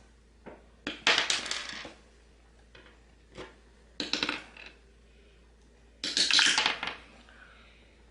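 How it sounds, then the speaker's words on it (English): Red dice rolled in a tabletop game clatter and rattle in three distinct bursts, close and crisp, each rolling briefly before settling, with no talk. "Let's roll a red dice."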